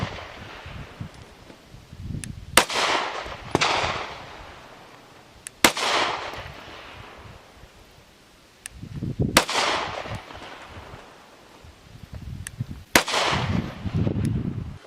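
Pistol shots from a Bul Armory Axe Cleaver ring out at an outdoor range, a handful of sharp cracks spaced several seconds apart, each trailing a brief echo.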